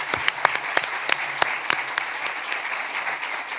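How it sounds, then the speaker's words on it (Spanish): Audience applause in a university auditorium at a public technology procurement conference, a steady wash of many hands with a few sharp, loud claps standing out near the front, continuing evenly throughout. "Yo creo que podem aplaudir"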